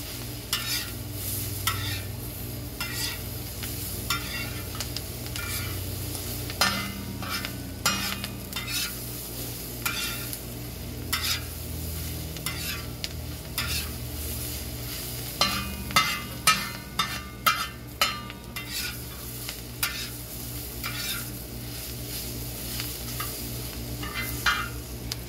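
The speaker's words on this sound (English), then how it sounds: "give everything a good stir to" Fried cabbage and cooked bacon are stirred together on a discada, with a constant sizzle under repeated scraping and clanking of a utensil against the steel disc, growing busier and sharper toward the middle.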